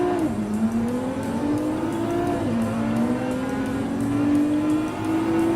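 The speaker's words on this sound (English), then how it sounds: "the engine sound is definitely the same" Nissan GT-R GT Academy Version engine in Gran Turismo Sport, revving steadily through shifting pitch with no talk, loud and continuous like a race car under load.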